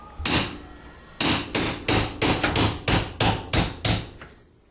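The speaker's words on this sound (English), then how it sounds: "I got to get my nail puller out, and I've got to pull out some nails here" A nail puller is hammered in to pull finish nails from a wall-mounted air conditioner housing. Nine sharp, loud metallic strikes ring out close by in an uneven rhythm, with a pause after the first.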